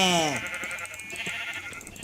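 A sheep in Minecraft gives a single loud, close bleat with a falling pitch at the very start, followed by quieter game sounds.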